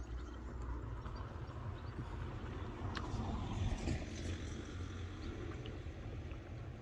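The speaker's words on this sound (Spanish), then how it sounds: "Vamos a cortar ya, que pasan muchos coches." Cars passing on a Spanish country road, a steady rumbling wash of traffic noise that swells slightly mid-way, continuous and moderately distant with no voices.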